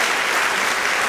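A church congregation claps loudly and continuously, a dense wash of applause filling the whole short moment.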